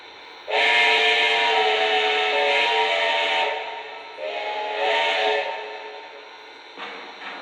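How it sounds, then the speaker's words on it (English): A Lionel Legacy Union Pacific 4-12-2 model steam locomotive sounds its whistle in two long chime blasts, then a short faint toot, loud and close with no talking. "Alright, so there's all 5 whistles."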